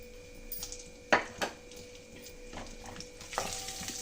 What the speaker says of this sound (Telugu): దీన్ని ఫ్రై చేసుకోవాలండి నెయ్యిలో.